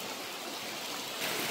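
A rain-swollen creek rushes during Typhoon Kristine, a steady broadband roar of fast water that is close and continuous, with no voices and no break in the flow.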